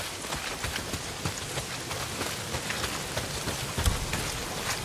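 Heavy rain pours down in the video game Days Gone, a loud continuous hiss of drops hitting surfaces, with one brief low thump partway through and no voices.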